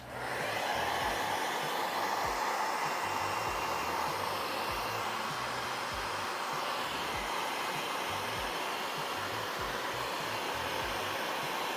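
A heat gun blows a steady, loud rush of hot air across windshield tint film to shrink it, a continuous whooshing hiss with no pauses, heard up close and alone.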